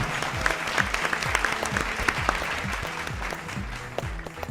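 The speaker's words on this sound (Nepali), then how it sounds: "जोरदार ताली प्लिज" A studio audience at a televised dance competition battle round bursts into loud, sustained applause with sharp individual claps and a faint crowd murmur underneath.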